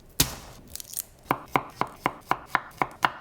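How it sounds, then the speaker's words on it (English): A knife slices garlic cloves on a cutting board in sharp, crisp, evenly spaced chops, one louder opening cut followed by a steady run of about eight close, distinct strokes. "we slice some garlic cloves"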